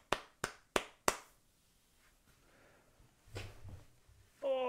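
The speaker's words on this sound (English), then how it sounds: "Round of applause" Four sharp, evenly spaced claps ring out, followed by quiet shuffling, a muffled low thump, and a brief high tone at the end.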